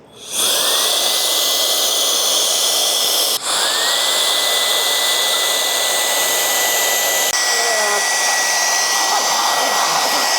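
A high-powered blower runs at full power, blasting water off a surface being prepped for primer; a loud, steady whine and rushing air continue throughout with brief dips as it is redirected.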